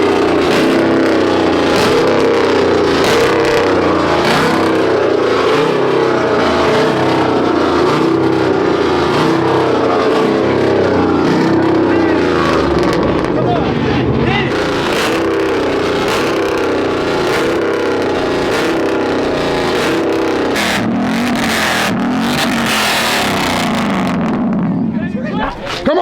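Loud, dense engine noise from a lifted truck's 6.2 at an outdoor truck meet, sustained throughout with surging revs, crowd voices shouting over it.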